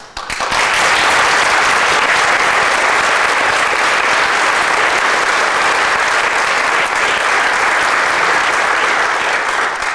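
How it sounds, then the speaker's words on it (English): Loud, sustained applause from a political speech audience, dense and even after a sharp start, with no voices over it. "we applaud him for that"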